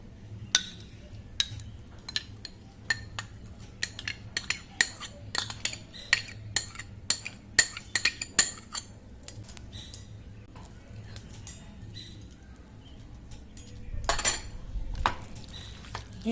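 Jackfruit curry ingredients with cumin powder, green and red chillies and sour yogurt are mixed in a pan, with a spoon giving many sharp, irregular metallic clinks and scrapes up close, and a louder scraping burst near the end.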